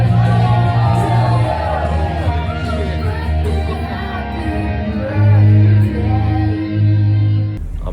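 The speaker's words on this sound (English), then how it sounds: "Little South Gate breakfast market. It's really loud, so I'm yelling right now." A crowded breakfast market at Little South Gate in Xi'an, China, full of dense, loud chatter, shouting and clatter that stays steady throughout, with heavier low booming swells near the end.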